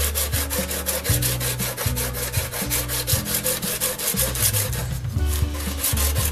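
A tungsten carbide lathe tool is rubbed by hand against a 200 grit stone in rapid back-and-forth strokes, producing a rhythmic rasping scrape, close and steady, with no talking.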